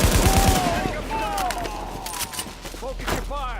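Rapid gunfire in the shooter Tom Clancy's The Division, a quick burst of close shots followed by scattered firing and whistling ricochets over a low background hum, with a voice speaking partway through.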